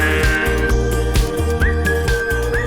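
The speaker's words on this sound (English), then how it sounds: "That whistle." Whistled melody in a song, a clear sustained tune gliding between notes over steady beat and instrumental backing, loud and close.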